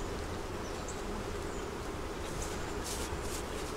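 Honey bees at a double deep eight-frame hive, a dense, continuous buzzing swarm close to the microphone, steady and moderately quiet with occasional brighter passes of individual bees.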